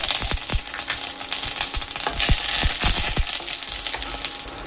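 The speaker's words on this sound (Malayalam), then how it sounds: "രണ്ട് ടേബിൾ സ്പൂൺ വെളിച്ചെണ്ണ ഒഴിച്ചിട്ടുണ്ട്. കടുക് ചേർക്കാം. വറ്റൽമുളകും കറിവേപ്പില." Mustard seeds, dried red chillies and curry leaves frying in two tablespoons of hot coconut oil, a loud close sizzle scattered with sharp rapid popping and crackling of the seeds, with no talking.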